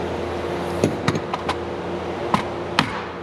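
Several sharp taps on a pulled Zenair blind rivet in aircraft sheet metal during drilling out, spaced irregularly and close, over a steady low background hum.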